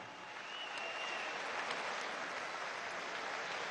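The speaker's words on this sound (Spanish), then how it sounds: "Y un aplauso a los fundadores." Sustained applause from a large audience at a political gathering in Venezuela honoring founders, a dense steady wash of clapping held at even loudness throughout.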